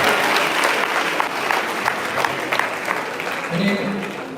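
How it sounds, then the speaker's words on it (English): Audience applause at a school career event, steady dense clapping filling the whole stretch at a consistent level, with a few voices mixed in near the end. "Give them a big round of applause."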